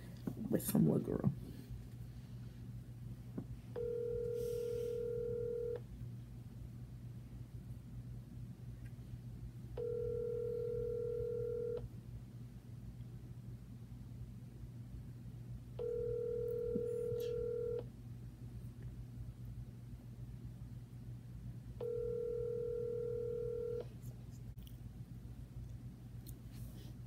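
Telephone call ringing out, four evenly spaced two-tone ring signals about six seconds apart over a steady low hum, preceded by a brief burst of dialing at the start, with faint background sound between rings.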